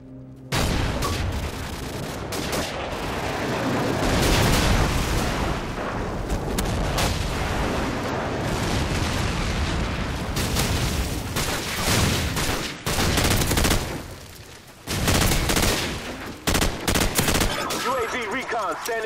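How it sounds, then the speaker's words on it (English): Call of Duty multiplayer on the Bog map during a Domination match: dense gunfire, heavy explosions and booming airstrike blasts roll on almost without pause, loud and close, with brief gaps near the end. "Friendly airstrike on the way."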